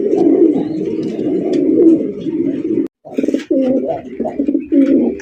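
A male pigeon coos loudly and close, a long throaty rolling call followed by a run of shorter repeated coos after a brief pause.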